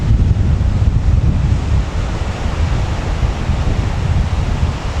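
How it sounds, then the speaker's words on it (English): Strong wind at Middleton Beach roars loudly and steadily across the microphone, a dense rumbling gust noise blended with surf, unbroken and with no voices. "It's bloody windy."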